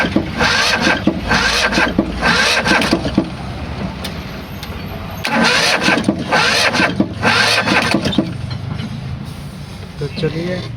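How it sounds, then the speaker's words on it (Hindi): Engine of a Tata Magic light commercial vehicle cranking repeatedly without catching, loud bursts of starter churning separated by short pauses, recorded close up. "इसका इंजन स्टार्ट नहीं हो रहा है"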